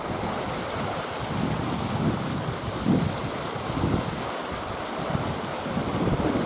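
Rushing river water pours from a roadside culvert pipe in a constant foaming roar, heard up close with some wind buffeting the microphone.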